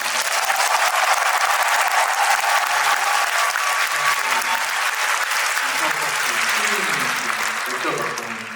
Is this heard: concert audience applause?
yes